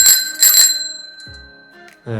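A Knog Oi bicycle bell, a crown-shaped ring bell, struck twice in quick succession with a bright ringing tone that fades, followed by a faint tap and then a low, brief sound.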